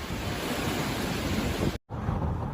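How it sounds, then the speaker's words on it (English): Typhoon surf pounds the shore of Fujian, China, with strong wind, a loud, dense, continuous roar of waves and gusts that briefly cuts out before resuming. "Towering waves relentlessly pounded the shores"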